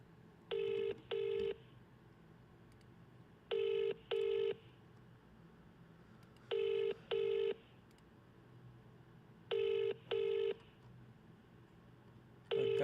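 Phone call ringing back: four evenly spaced pairs of electronic ring tones, each double burst followed by a quiet gap, repeating steadily and fairly faint without any voices.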